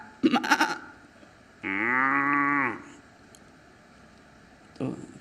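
A voice imitates a goat's bleat inside a song, giving one loud, sustained nasal bleat of about a second that stands between short bursts of singing or talk.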